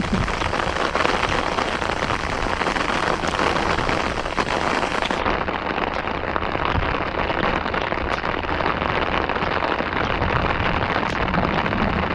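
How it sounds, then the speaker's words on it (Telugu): Steady, heavy rain pours down continuously over a canal, a dense even hiss of drops on surfaces that holds throughout without pause. "వాన పడుతుంది"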